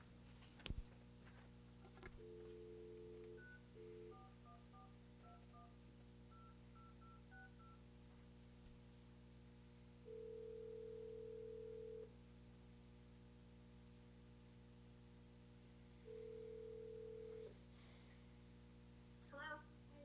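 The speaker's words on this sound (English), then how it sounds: "We are going to try a different phone number." A telephone dials a number at a meeting, a quick run of touch-tone beeps followed by two long ringback tones with quiet gaps, over a low steady hum.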